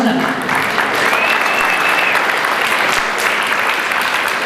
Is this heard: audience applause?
yes